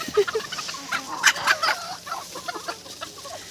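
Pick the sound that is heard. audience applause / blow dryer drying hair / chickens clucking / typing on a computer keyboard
chickens clucking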